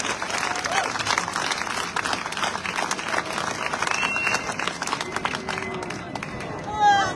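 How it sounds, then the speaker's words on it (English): Crowd applause at an outdoor community rally in Brisbane, honouring the Queensland Police Service; steady broadband clapping with crowd babble and a few shouts runs throughout, swelling briefly near the end. "Please give a round of applause to the police."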